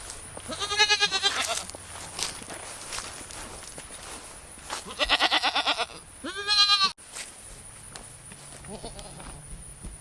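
Goats on a farm bleat in several loud, wavering cries close by, with a voice and shuffling footsteps and hoof clatter between the calls.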